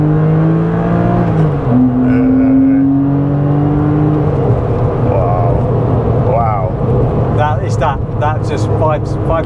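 Porsche 911 996 C4S engine rising in pitch as it revs, then settling into a rougher rumble, heard from inside with someone talking over the later part.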